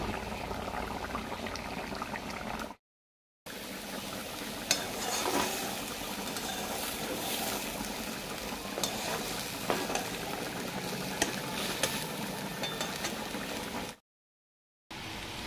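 Leafy greens (shak) frying in a pan on a home stove, a steady soft sizzle with occasional stirring scrapes, continuous and close, broken by two short silent gaps.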